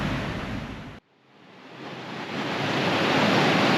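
Water rushes into a canal lock in Canada, a loud broad roar that drops out for an instant, then surges back and builds steadily to a strong, continuous gush.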